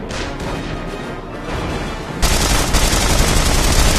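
Sustained machine gun fire aimed at a zeppelin in the video game The Saboteur, loud, dense and continuous, with a quieter stretch of shots that breaks into a heavier, harsher barrage about halfway through.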